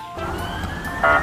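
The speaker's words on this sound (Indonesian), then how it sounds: "Wow, mobil ambulans." A toy ambulance's electronic siren wails in a steady rising tone, close and fairly loud, with a brief brighter burst near the end.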